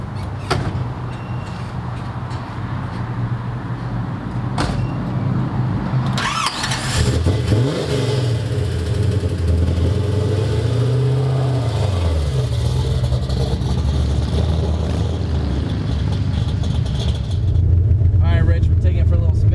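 A 1971 Camaro with a 383 stroker V8 cranks, fires up and revs in rising and falling pulls, then settles into a loud, lumpy idle close by, with people talking over it at the start.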